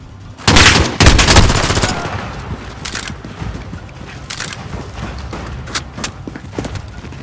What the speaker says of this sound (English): The gunshot, of course.